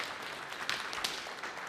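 Audience clapping as a steady, fairly faint patter of many hands with a few sharper individual claps standing out, continuing evenly throughout.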